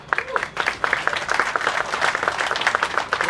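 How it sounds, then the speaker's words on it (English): An audience at the Philly Music Walk of Fame ceremony claps a round of applause for the PMA, dense and sustained clapping throughout with a faint murmur of voices underneath. "So let's give the PMA a round of applause for that."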